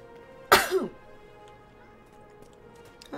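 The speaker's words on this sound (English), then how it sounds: "My cough scared those birds off." A single sharp cough bursts out in a quiet outdoor game scene, short and close, followed by near silence and faint background tones.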